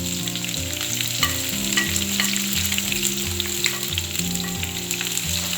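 Prawns stir-frying in hot oil with salt, a loud continuous sizzle and crackle with scraping stirs, while a steady tonal hum runs underneath.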